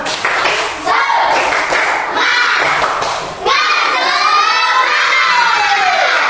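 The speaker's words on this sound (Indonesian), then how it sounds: "Tepuk semangat!" A classroom of students performs a rhythmic spirit clap as an ice-breaker, bursts of clapping and thumps mixed with loud, shouted chanting from the children, close and energetic.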